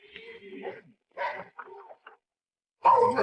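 Dogs bark in a dramatized period scene, giving several sharp, close barks in uneven bursts separated by short silences.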